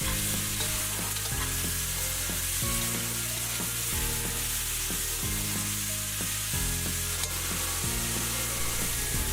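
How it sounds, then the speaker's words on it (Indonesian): Food sizzles steadily in a hot pan while a utensil stirs it in regular strokes about every second or so. "Setelah itu kita aduk-aduk hingga tercampur merata."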